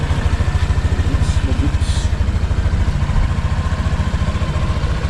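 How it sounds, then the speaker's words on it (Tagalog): A white standard 2025 Honda Click 125 V5 scooter idling nearby, its engine giving a steady, rapid, even putter with light mechanical clatter, loud and continuous throughout. "Yan guys, yung andaran ng Click natin. Pakinggan ninyo."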